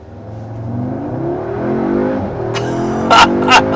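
A 2023 Audi S3 with a 306 hp engine accelerates hard, its engine note climbing steadily in pitch through the revs, followed by a couple of quick shift blips near the end.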